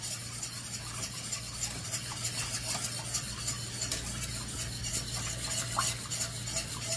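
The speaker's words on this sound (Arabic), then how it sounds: "بنضل عم نحرك لتغلي" A caramel mixture is stirred in a pot as it heats toward a boil, giving a continuous scraping, rasping stir over a steady low hum, close and fairly even, with no voices.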